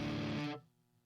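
An unmuted, distorted electric guitar rings out loud and messy, with strings buzzing together, then cuts off abruptly into a faint lingering hum.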